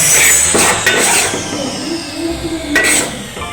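Raw rice flour is roasted and stirred in a pan with a spoon, giving a continuous loud scraping and rustle with a few sharper metallic knocks.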